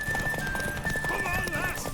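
Horse galloping in the game The Witcher 3, rapid rhythmic hoofbeats with a whinny layered in and a thin steady tone above, dense and close.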